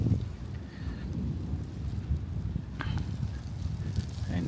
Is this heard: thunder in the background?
yes